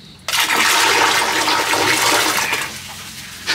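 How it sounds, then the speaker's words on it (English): A toilet on a boat at sea flushes with a sudden loud rush of water that starts abruptly, roars steadily for about two seconds, then tapers into gurgling, close and alone. "and you flush the dirty toilet."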